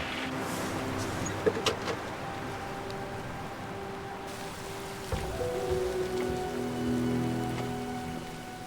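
Heavy rain falls steadily, a dense and constant hiss of drops on a surface, with a low rumble of passing traffic underneath and no speech.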